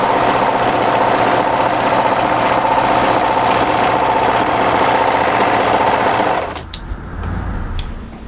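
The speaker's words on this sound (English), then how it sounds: "What we're going to do is overlock the side seam here." An overlocker stitches the side seam of a mid-length wrap cardigan, a loud, steady rapid whir close up that stops abruptly near the end, leaving a few quiet handling clicks.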